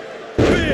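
A heavy body slam from a big splash move in the WWE 2K25 wrestling game lands with a sudden loud thud partway through, followed by sustained crowd roar after a quieter lead-in.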